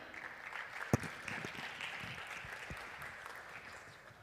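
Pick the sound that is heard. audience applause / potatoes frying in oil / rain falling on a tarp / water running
audience applause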